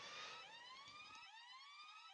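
Wailing electronic alarms sound in a video game after the player is detected, several rising and falling siren tones layered together, steady and fairly loud with no talk.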